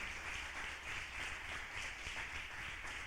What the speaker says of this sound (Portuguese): Você pode dar um forte aplauso ao Senhor